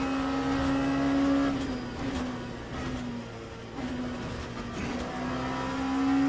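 Race car engine in the Le Mans Ultimate sim racing game at Sebring, a loud continuous high-pitched drone rising and dipping as the car accelerates through the gears, with brief tire noise.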